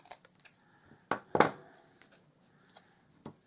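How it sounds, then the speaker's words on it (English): Scissors cutting a craft project lid, a few sharp close snips standing out among quiet rustling and handling noises. "let me just cut a little bit more off there"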